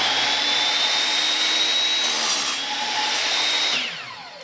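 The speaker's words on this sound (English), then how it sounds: "what we're going to do is cut a 45-degree angle, front being short, back being longer, on just your first piece of baseboard" Power saw cutting a 45-degree angle through a piece of baseboard, a loud steady whining blade with a sustained high tone that winds down near the end.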